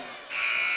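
A buzzer sounds at the end of the half in a boys' high school 3A district championship basketball game. After a moment of crowd murmur, a loud, steady electronic tone starts suddenly and holds to the end.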